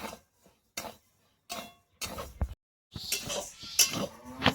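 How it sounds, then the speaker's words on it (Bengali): Moong dal dry-roasting in a pan over a lit stove, short bursts of scraping and rattling clinks from a spatula, separated by brief silences, then denser stirring near the end. "এবার আমি ডালটা একটু ভেজে নেব"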